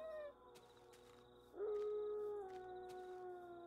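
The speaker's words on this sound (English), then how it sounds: "nice generic wolf howl music or sound" A wolf howl from a Minecraft horror map rises into a long, sustained, slightly wavering tone that slowly lowers in pitch over eerie background ambience, without any talk.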